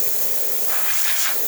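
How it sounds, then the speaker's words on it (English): Steam wand of a Zacconi espresso machine, just tuned up with a new pressurestat, releasing a steady, loud, broad hiss that runs unbroken from start to finish with no voices. "steam is working excellent. Great pressure coming out of this machine."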